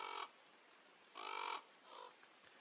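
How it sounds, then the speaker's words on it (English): A crow in the horror game Where They Wait caws three times, two loud harsh calls and a softer third, close by over a quiet background. "You grab the crow from the tree branch."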